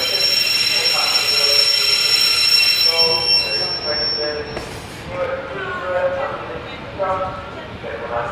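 Train at a platform, wheels squealing with shrill sustained tones at first, then quieter metallic screeches and rumble as it moves, with people talking nearby.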